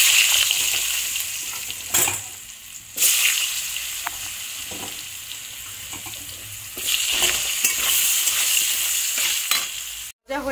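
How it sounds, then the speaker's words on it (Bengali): Potatoes fry in oil in a pan, a loud bright crackling sizzle with stirring scrapes and brief knocks of a spatula, swelling and easing as the pieces are turned. "এই তেলে আলুগুলোকে একটু ভেজে নেব।"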